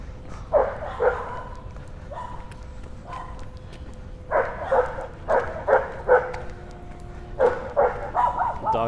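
A dog on a New York City street barks repeatedly in short bursts and clusters, fairly close amid outdoor traffic hum, with a steady tone sounding in the background.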